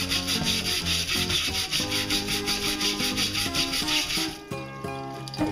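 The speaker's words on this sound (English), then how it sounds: "This is just with a plastic brush." A plastic brush scrubs rust from a vintage cast iron waffle iron in steady, rhythmic back-and-forth strokes, loud and close, with no talking.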